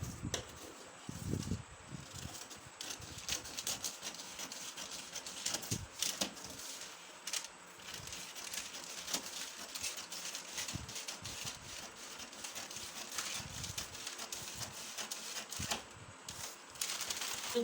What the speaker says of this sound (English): Now when I get here, I'm cutting it in a slant.